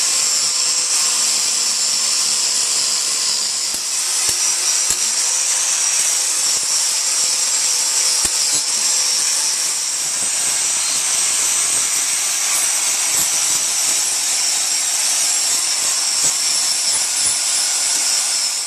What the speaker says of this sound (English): that's got it ground off, all the paint, powder coat and everything off, so the welding's going to stick